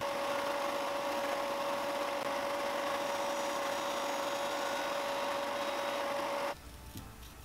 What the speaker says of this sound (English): Gonna sand that down.